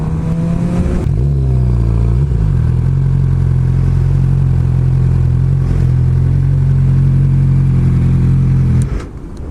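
A motorcycle engine idles and revs nearby with a steady low rumble and some mechanical clatter, then cuts off abruptly.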